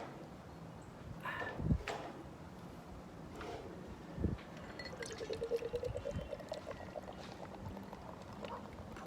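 Natural Light and Busch Light beers being poured, a quiet close gurgling and splashing pour with a couple of soft knocks, and a rising fizzing trickle toward the end.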